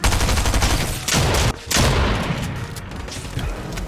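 Dense bursts of gunfire in the video game Fortnite, during a solo Clash mode match, rattle on loud and close with rapid overlapping shots and booms, no voices.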